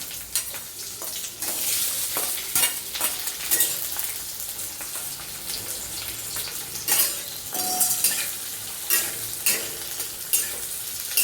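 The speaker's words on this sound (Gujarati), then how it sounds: "હવે એના અંદર વઘાર આવી ગયો છે એટલે આપણે કાંદા નાખીએ છીએ" Chopped onions dropped into hot tempering oil in a pan for besan dosa, sizzling steadily with repeated scraping stir strokes and light clinks of a spoon against the pan, close and without talk.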